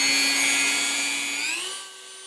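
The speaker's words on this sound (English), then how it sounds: "now I need to cut this with the Dremel" Dremel rotary tool cutting through metal, a steady high-pitched whine with strong harmonics that holds then drops in pitch as the motor winds down near the end, close and alone.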